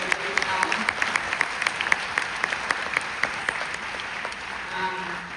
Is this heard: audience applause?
yes